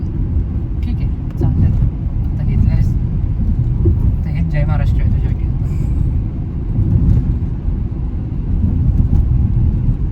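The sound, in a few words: car driving, engine running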